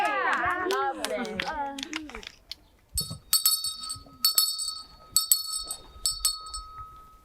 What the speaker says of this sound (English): The church bells. They've been silent since 1939.